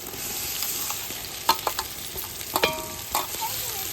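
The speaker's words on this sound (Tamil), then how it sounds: "இப்போ இஞ்சி வதங்கிட்டு தக்காளியை சேர்த்துக்கலாம்." Ginger and tomatoes sauté in a pan for chicken biryani, with a soft continuous sizzle broken by several sharp scrapes and clacks of a stirring spoon.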